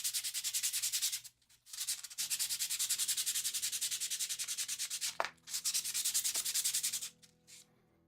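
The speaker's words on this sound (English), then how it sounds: "I am going to rub this just a little bit more." Rust is rubbed off a metal garden tool in steady, rhythmic back-and-forth strokes up close, with a short break in between and a few brief knocks near the end.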